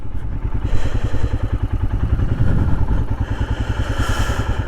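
A Royal Enfield Himalayan motorcycle on an adventure ride near Perry Lake, its single-cylinder engine thumping in a fast, steady pulse that swells and eases slightly, loud and close throughout.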